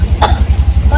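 A single sharp cough bursts out close by, over a low, pulsing hum in the background.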